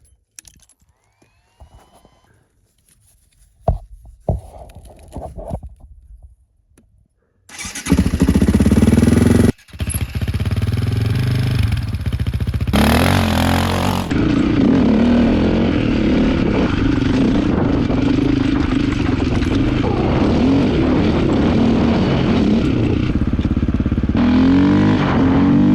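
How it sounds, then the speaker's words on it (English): A dirt bike with freshly changed gearing starts after some scattered knocks and clatter, then roars continuously under hard throttle at high speed on an outdoor trail, loud and steady with wind rush and occasional shifts in engine pitch. "this is where the dirt bike comes in as the deployable vehicle"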